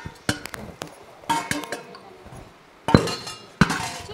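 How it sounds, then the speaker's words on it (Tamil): Dishes and pots being washed in a home kitchen: sharp metallic and glassy clinks in scattered bursts, some close and loud, with quieter rattles between, no talking. "சச்சோ பாத்திரம் கழுவிலையே,"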